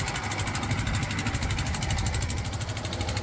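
A trawler boat's engine chugs steadily and close by while crossing a small river in Bhola, Bangladesh, giving a continuous mid-pitched throb with a rapid knocking rhythm, no voices heard.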